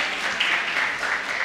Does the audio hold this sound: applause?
yes